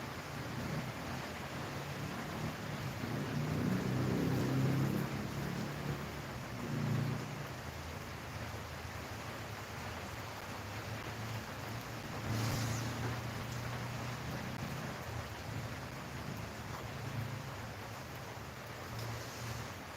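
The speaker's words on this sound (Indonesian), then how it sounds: "Hujan-hujan bikin ngantuk." Rain falls steadily as a soft, continuous hiss with low rumbling swells that rise and fade a few times, fairly quiet and with no voices.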